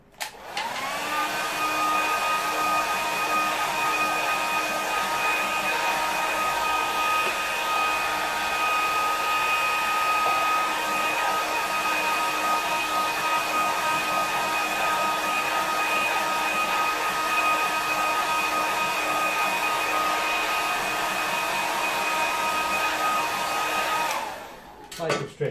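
A hair dryer blows steadily on a watercolour painting of a harbour in evening light, a loud, close, continuous whir running for about 25 seconds without pause before switching off.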